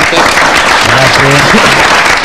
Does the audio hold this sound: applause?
yes